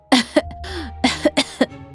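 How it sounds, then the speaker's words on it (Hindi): An old woman lying on an old cot gives a series of harsh, close coughs in two bursts, with a raspy strained voice between them; no clear speech. "एक पुरानी खटिया पर लेटी खांस रही हैं"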